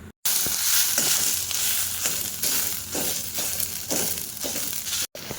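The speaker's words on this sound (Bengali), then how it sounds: "কড়াইটা বসিয়ে দিয়েছি চলো তেল দিয়ে পেঁয়াজটা দিয়ে দেখাচ্ছি তোমাদের" Onions frying in oil in a kadai give a steady, close crackling sizzle with a few brief stirring scrapes, dropping out briefly near the start and end.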